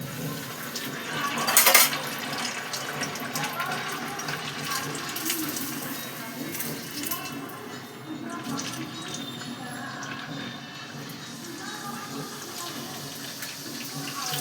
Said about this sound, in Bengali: এই দেখো তেল গরম হয়ে গেছে, এবার আমি তেলে একটা করে দিচ্ছি